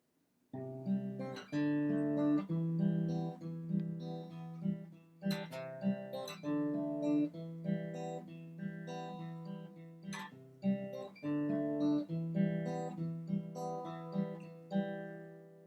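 Fingerpicked acoustic guitar plays a repeating chord pattern from a song, notes plucked one after another in a gentle, steady rhythm, quiet and close.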